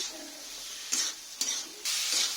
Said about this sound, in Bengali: আর এখানে যে আমি আলুটা ভেজে রেখেছিলাম, আলুটা এবার দিয়ে দেব। ভালো করে আমি কষে নেব।